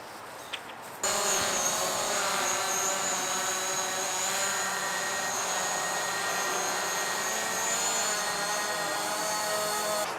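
A DJI Mavic Pro drone hovers and flies toward an obstacle, its propellers giving a steady high-pitched whine with tonal harmonics that starts abruptly after a second and holds evenly, fairly close, without talking.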